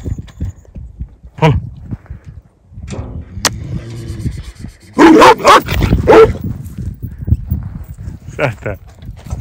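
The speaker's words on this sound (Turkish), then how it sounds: "sert bir köpek" A livestock guard dog barks in a few sharp bursts, loudest around the middle, while people talk nearby.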